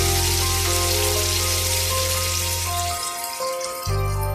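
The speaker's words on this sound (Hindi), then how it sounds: "अब मैं इसमें थोड़ा सा पानी डालूंगी ताकि मैं कोफ्ते की जगह बने" Water poured into a hot pan of meatball curry (kofta salan), a loud close sizzling hiss that holds for a few seconds, then briefly thins before surging again.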